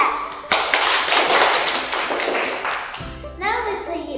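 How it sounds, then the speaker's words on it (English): A small audience claps for Mr. Yip at a game show, a burst of clapping starting after a sharp tap and fading, followed by young voices talking near the end. "Let's give him a big clap"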